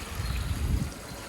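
A running stream swollen after heavy overnight rain rushes in a steady, close, broadband wash of water with no voices.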